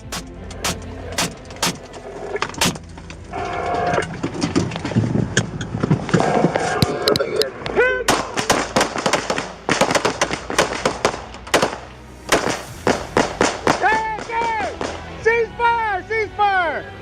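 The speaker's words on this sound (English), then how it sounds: "Deputies responded by firing 20 rounds, fatally striking him." Deputies fire a rapid volley of about twenty rounds, sharp loud cracks in quick bursts, with shouting voices and a siren-like wail mixed in.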